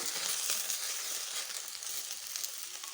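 Okra sautéing lightly in a pan over medium flame makes a soft, even hiss of frying, fairly quiet and unbroken, with no voices over it.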